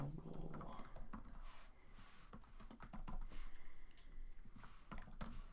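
Fingers type on a computer keyboard while entering landing-page text, with close, crisp, irregular key clicks coming in quick bursts and short pauses across the whole stretch.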